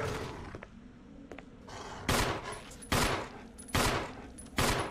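Gunfire aimed at attacking dogs in the game Resident Evil: a few faint early shots, then four loud, evenly spaced blasts ring out close, each with a sharp crack and short fading tail.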